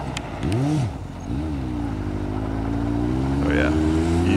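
A mini buggy on its first run, its small engine revving up and falling back and then holding a rising, buzzing drone close by, with voices talking briefly over it.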